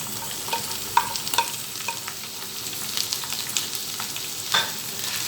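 Minced meat and wilted golden onions fry in a pan for a baked macaroni and minced meat casserole, with a steady close sizzle and repeated scraping stirs and clinks from a spoon, no voices.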